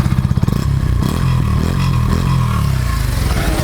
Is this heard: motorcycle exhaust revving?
yes